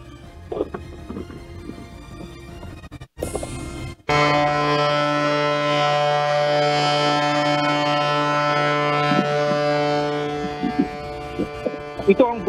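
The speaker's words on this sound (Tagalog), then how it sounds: "Ito ang busina mula sa Chinese vessels" Deep, sustained horn blasts from Chinese vessels at Escoda Shoal in the West Philippine Sea, starting after a brief pause and holding steady and loud for about eight seconds, with rich layered harmonics over background rumble.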